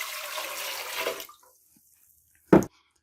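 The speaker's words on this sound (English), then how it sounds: "Then all we have to do is add our water." Water poured from a container into a pot of rice for rice pudding, a steady splashing pour for about a second that stops, then a short sharp knock near the end.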